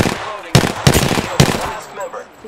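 Gunfire in Apex Legends, with several sharp automatic-weapon shots in quick bursts, close and loud, and a brief game voice line underneath.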